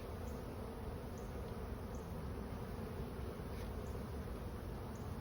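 Honey bees buzz at an open hive in a dense, steady hum that stays loud and close throughout, with no pauses.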